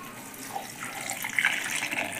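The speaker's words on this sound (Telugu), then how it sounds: "వాటర్ పోసేస్తున్నాను దీంట్లో" Water pours into a mixer jar for a pan sharbat summer drink, a soft, steady trickle that swells and splashes a little louder toward the end, quiet and alone.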